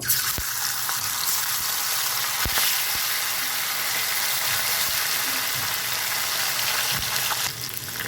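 Puti fish frying in hot oil in a pan, a steady dense sizzle and crackle running throughout with occasional sharper pops and a few stirring knocks, loud and close with no talking.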